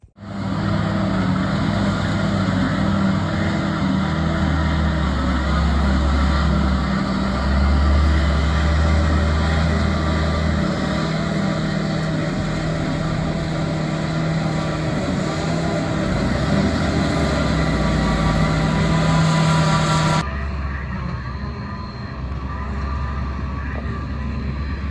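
A truck's engine drones steadily as it climbs a slippery farm side hill, a continuous rumbling load held for a long stretch before the sound drops off abruptly near the end. No one speaks.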